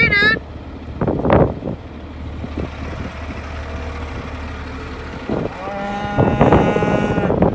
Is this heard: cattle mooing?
yes